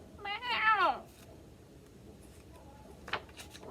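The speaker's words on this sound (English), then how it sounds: "Meow." A voice gives a drawn-out cat-like meow, rising and falling, followed by quiet and a short sharp sound near the end.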